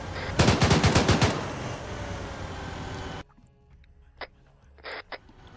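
Rapid bursts of heavy machine-gun fire from a BTR armored vehicle in the Arma 3 combat game, loud and sustained for a few seconds, then a quieter stretch with a few short distant shots.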